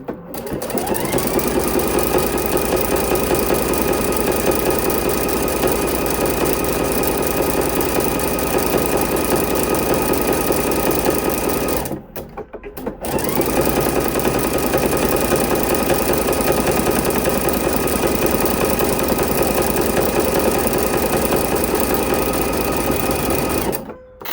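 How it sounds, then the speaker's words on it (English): Sewing machine stitching satin trim onto a fleece blanket, a loud steady whirring hum of rapid stitches running continuously, stopping briefly midway before resuming for another long run. "We're going to finish sewing across here and line up with our previous stitches."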